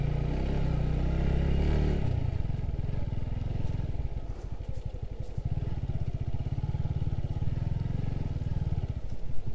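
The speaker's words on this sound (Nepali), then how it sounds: "ऊ त बाइक होला" A motorcycle engine rumbles steadily and close on a village road near Takung, its low, pulsing drone shifting in tone about two seconds in and carrying on without pause.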